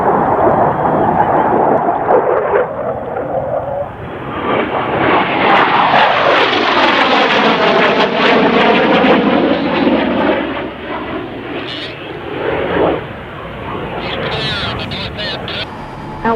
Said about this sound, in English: This next one will be a high speed with the pyro.